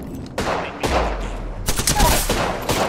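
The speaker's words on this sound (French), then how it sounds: "On me tire dessus." Rapid gunfire bursts in the battle-royale shooter Apex Legends, several loud close volleys cracking in quick succession over a couple of seconds, with brief gaps between bursts.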